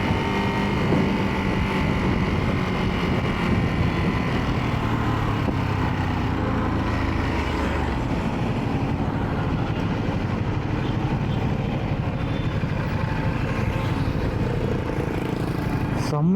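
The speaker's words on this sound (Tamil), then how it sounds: "நான் ஓட்டது டுக்காட்டி மான்ஸ்டர்" A Ducati Monster 696 motorcycle is ridden with a continuous engine drone and wind rush heard steadily from the rider's position, fairly loud and unbroken throughout.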